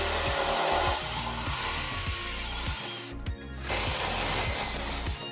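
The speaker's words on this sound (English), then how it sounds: "Then, create grooves by using a special tools." A power tool cutting grooves into a wall behind a shower valve position, a loud rough grinding drone that stops briefly and then resumes, heard alone.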